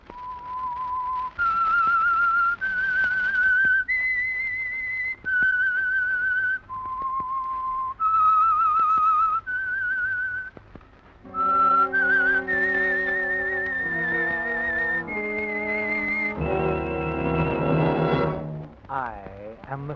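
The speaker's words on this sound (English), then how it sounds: "That whistle is your signal for the Signal Oil Program," A lone whistler carries the theme tune of a radio drama, clear sustained whistled notes stepping up and down in a slow melody, followed by a brief musical accompaniment near the end.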